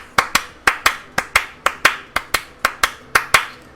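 Hand clapping in a swing rhythm, about fifteen sharp claps in long-short pairs with an even lilting pulse, close and dry with no other sound.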